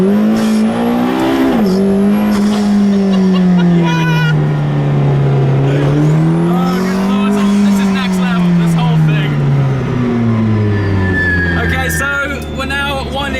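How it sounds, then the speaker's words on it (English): Formula 1 race car on the Goodwood hill climb: a loud, high-pitched engine howl that rises and falls through gear changes as it passes close by, with voices over it. "F1 car's about to come out."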